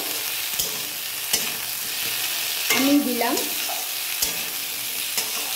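Potatoes frying in a pan for a Bengali fish dish, a continuous hissing sizzle with a few sharp clacks of a spatula and a brief stirring burst, a few words spoken over it.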